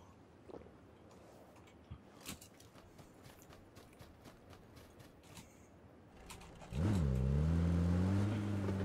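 A UAZ vehicle in PUBG starts and drives off, its engine swelling into a loud steady droning rumble with shifting pitch after a stretch of quieter ambient clatter and a few sharp ticks.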